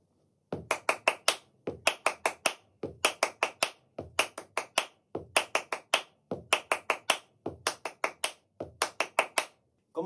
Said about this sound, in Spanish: Vamos a ver un solo patrón de palmas para acompañar al tanguillo.